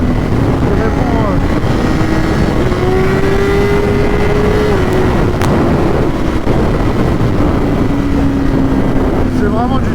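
A 200 hp, 195 kg motorcycle with a quickshifter pulling hard in sixth gear, its engine droning steadily and rising in pitch under heavy wind buffeting, recorded loud and close from the rider's position.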